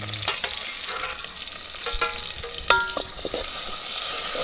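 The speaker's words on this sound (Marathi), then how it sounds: "आता जरासा फोडणी द्यायला." Whole spices crackle and sizzle in hot oil for a chicken curry cooked outdoors over a wood-fired clay stove, with stirring scrapes and sharp pops over a steady frying hiss.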